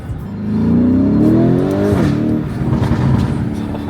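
Lamborghini engine revving hard while not yet warmed up, a loud rising pitch climbing for about two seconds, then dropping and settling into a rough, burbling idle.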